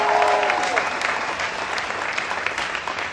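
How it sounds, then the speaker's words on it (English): Crowd applause breaking out after a speech by New York Governor Andrew Cuomo at the 2015 AIDS Walk, a dense steady wash of many hands clapping outdoors, with a few voices calling out early on, gradually thinning toward the end. "Let's give them a round of applause."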